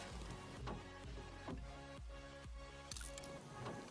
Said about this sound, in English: Sounded like water outside.